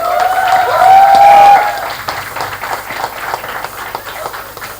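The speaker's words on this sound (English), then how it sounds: "Please welcome all our panelists with a huge round of applause." A crowd applauds to welcome panelists at a Mumbai book launch. A loud burst of clapping peaks in the first second and a half, mixed with a bright tonal whistle-like sound, then thins into scattered quieter claps.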